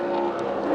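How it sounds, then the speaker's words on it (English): NASCAR stock car engine at Michigan International Speedway during the Quicken Loans 400, a steady high-pitched roar lasting under a second, loud and continuous with no speech. "And there goes Kurt Busch around."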